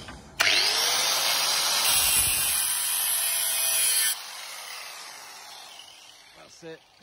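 A power drill spins up sharply and grinds hard into metal, drilling out spot welds on a rusted VW T4 sliding door track, for a few seconds, then winds down with a fading whir and faint clinks.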